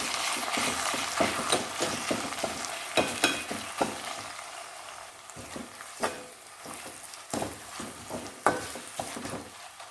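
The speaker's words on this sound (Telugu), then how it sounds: "పచ్చిమిర్చి కాస్త వేగిన తర్వాత రోట్లో నూరుకున్న ఉల్లిపాయ మసాలా ముద్ద వేసుకుందాము." Green chillies and a ground onion masala paste fry in a pan for a prawn and okra curry. Close crackling sizzle runs throughout, broken by repeated sharp spatters and stirring clicks.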